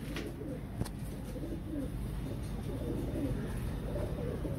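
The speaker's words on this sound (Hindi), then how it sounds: "ये देखो दोस्तों मेरे कबूतर हैं" Low, gentle cooing of pigeons close by, a few soft rolling calls against a quiet hum, with a brief click early on.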